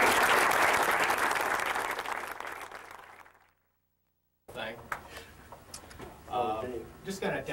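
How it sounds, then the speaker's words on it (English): Audience applause at a martial arts demonstration, a steady wash of clapping for about three seconds that fades into silence, followed by someone talking. "Give him a round of applause."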